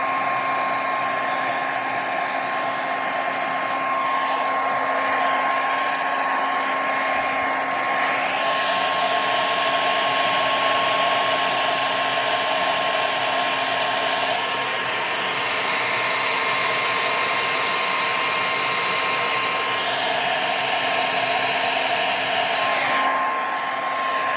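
A hair dryer blows continuously, a loud steady whooshing roar with a constant whine, its pitch shifting slightly now and then.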